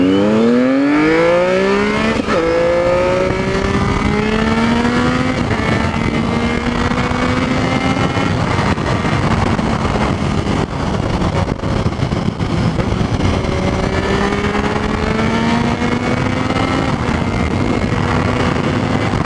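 A Triumph Street Triple and a Ducati 959 Panigale rev and accelerate in Bath on a Saturday morning, engines climbing through the gears with rising whines and throaty roar, loud and close throughout with no talking.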